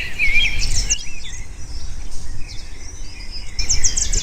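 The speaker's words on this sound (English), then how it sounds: "It screams to communicate with other cockatoos." A cockatoo gives shrill, scratchy calls in two loud bursts at the start and end, with quieter chirping and a constant background buzz between them.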